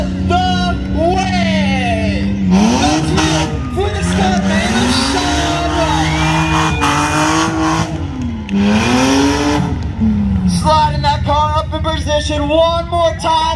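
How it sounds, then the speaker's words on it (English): A stunt car's engine revs and rises in pitch as it drives on two wheels toward a ramp at a state fair record-breaker show, loud and near, with an announcer talking over it and crowd noise around. "He's headed towards the ramp, building up speed. He's on two wheels."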